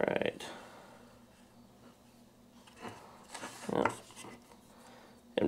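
The tip of a blade cuts the plastic of an AtGames Legends Pinball control bar in a few short, close scraping and rasping strokes with quiet gaps between them.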